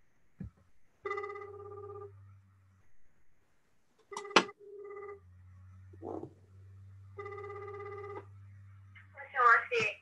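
On an outgoing phone call, a ringback tone sounds in three long buzzing bursts over a low hum, separated by pauses and small clicks, with a brief voice sound near the end.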